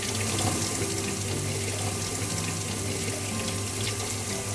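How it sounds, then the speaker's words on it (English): Water runs steadily from a kitchen tap while coconut flesh is rinsed and the black shell scraped off, a close, constant splashing hiss with no voices. "I'm just going to give this a bit of a wash under the sink, under the tap"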